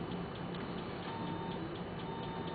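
A Pure Data patch sends out a steady, repeating electronic beep, regular ticking pulses over a constant bed of hum, at moderate level with no voices.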